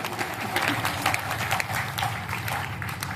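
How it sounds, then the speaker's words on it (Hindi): Dense, continuous clapping from a small audience at a Hindi poetry recital, a steady patter of many hands filling the whole stretch without a break. "एक बार जरा दोनों हाथ उठाकर अपने लिए तालियां बजाना।"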